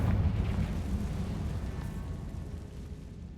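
A Confringo blasting spell explodes in the Hogwarts Legacy video game inside a tomb, a loud deep burst at the start that rolls into a long, fading rumble.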